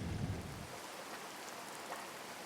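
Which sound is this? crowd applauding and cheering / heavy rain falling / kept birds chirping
heavy rain falling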